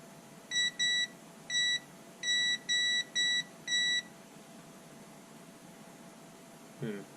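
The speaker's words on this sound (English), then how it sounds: "Take my multimeter and we'll just we'll check continuity on that." A multimeter checking continuity on a small battery-powered DIY infrared light circuit gives about seven short, clear electronic beeps in quick irregular bursts, close by over faint background hiss.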